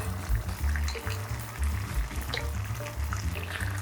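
Gangdoenjang, a thick Korean soybean-paste stew with tofu, boils in a pot with a low, continuous thick bubbling and popping, close and steady throughout.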